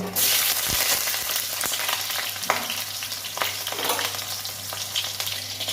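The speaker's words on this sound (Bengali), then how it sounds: "কড়াইয়ে পরিমাণ মতো তেল দিচ্ছি বেগুন ভেজে নেব" Loud, continuous sizzle of eggplant frying in oil in a wok, with crackling spatters and occasional clinks of stirring, no voices.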